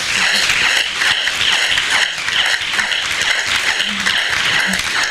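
Sustained audience applause fills a conference hall at a closing plenary in Abidjan, a dense steady patter of many hands clapping without a break.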